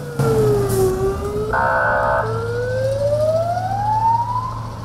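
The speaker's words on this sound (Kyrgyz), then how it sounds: "Тез жардам унаасы атайын үн белги менен Жалал-Абад шаарынын Борборду көчөсүнө чыкты." An ambulance siren sounds loud and close on a city street in Jalal-Abad, its wailing tone sweeping down and up with a short stretch of rapid yelp in the middle, over low traffic rumble.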